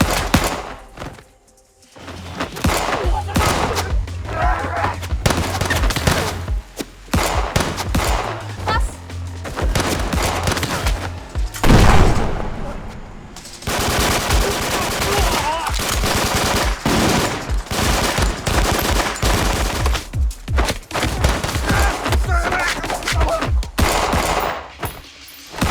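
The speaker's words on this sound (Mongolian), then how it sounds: "Мань хоёрч тэгээд тэдэнтэй буудалццгаана." Sustained automatic gunfire in a film shootout, dense bursts of rapid shots with heavy thuds and booms, loud and continuous with a brief lull near the middle.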